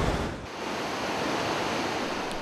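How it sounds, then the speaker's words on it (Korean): A huge waterfall on the Mekong River at Si Phan Don roars in a dense, steady wash of loud rushing water, with no voices. "잔잔했던 강물이 어느 순간 거대한 폭포로 넘쳐 흐르는 모습에"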